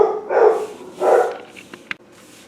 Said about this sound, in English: My dog was barking like mad.